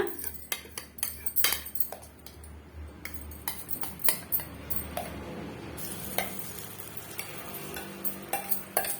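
A spoon clinking and scraping against a bowl while whisking an egg mixture for an omelette, sharp irregular metallic taps over a soft sizzle from a hot dosa tawa nearby.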